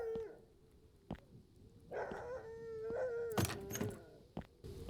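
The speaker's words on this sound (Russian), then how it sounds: "Что ты лаешь? Что там такое?" A husky barks and whines a few times in the indie horror game Terrors to Unveil, amid a steady low electronic hum, with sharp clicks and thumps scattered throughout.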